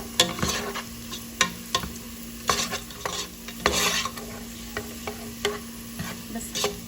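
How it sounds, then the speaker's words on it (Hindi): Raisins fry in hot ghee, giving a soft continuous sizzle broken by repeated sharp clinks and scrapes of a spoon stirring against the pan, close by, with no voices. "अब इसमें ऐड करूंगी मैं ये किशमिश और इसको फ्राई करूंगी।"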